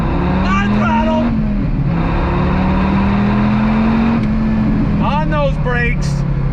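A 2006 Dodge Viper SRT10 accelerating hard on throttle, its deep engine drone steady and loud and slowly climbing in pitch across the run, with brief excited voices rising over it near the start and near the end.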